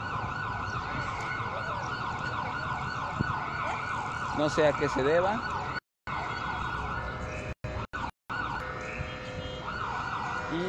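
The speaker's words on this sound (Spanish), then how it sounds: "Tenemos una ambulancia aquí atrás." An ambulance siren wails continuously with a rising and falling tone amid traffic noise in the Zócalo, Mexico City, while someone speaks briefly in Spanish over it.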